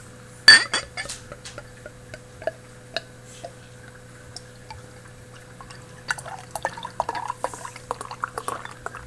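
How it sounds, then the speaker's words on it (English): Wychwood Brewery Ginger Beard, a 4.2% ABV beer, poured from the bottle into a glass: a sharp clink near the start, a quiet stretch, then soft trickling, dripping and fizzing ticks building toward the end, close and fairly faint. "Let's give her a pour."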